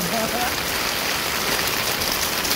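Heavy rain pours during a stormy typhoon-season day in the Philippines, a dense, constant hiss of drops close by with no letup.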